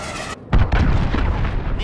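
A cruise missile strike in the video game Call of Duty: Modern Warfare, a Domination match: a sudden loud, deep blast that cuts in after a brief gap and rumbles on heavily for over a second.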